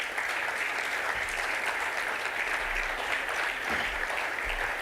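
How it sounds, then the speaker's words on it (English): An industry summit audience stands and applauds partners with a loud, dense, continuous round of clapping lasting several seconds, with faint low rumble beneath. "We want to clap for you."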